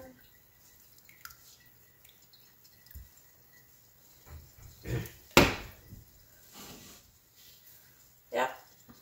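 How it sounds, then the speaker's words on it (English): Outdoors in a wilderness setting, a thin, slow stream of water drains and drips: faint, irregular drops and soft splats over quiet background, with a few louder taps scattered across the stretch. "It is pretty slow draining. I don't know if you can see it, but there's like a singular stream of water right there."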